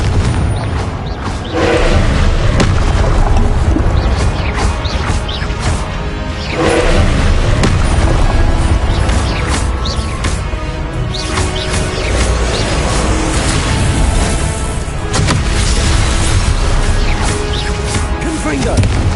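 Confringo explosive spell blasts in the video game Hogwarts Legacy, a busy run of booming thuds and whooshes repeating every few seconds amid constant combat noise and music.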